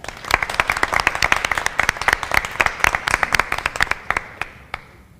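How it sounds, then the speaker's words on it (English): A room full of people claps in a quick, crackling burst that tapers off into scattered single claps before stopping. "Let's give ourselves a round of applause."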